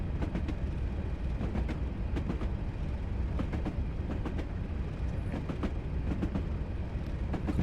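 A passenger train in Train Simulator runs on the West Highland Line from Helensburgh Upper toward Fort William, with a continuous low rumble and a steady, rhythmic clickety-clack of wheels over rail joints.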